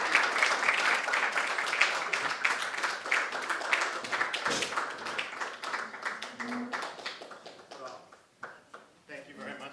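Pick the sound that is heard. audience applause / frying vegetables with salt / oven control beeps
audience applause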